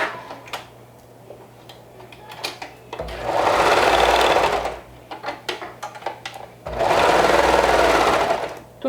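A sewing machine stitches down a sleeve on a garment in two sustained loud runs of rapid mechanical whirring, separated by a pause that holds softer clicks and handling noise.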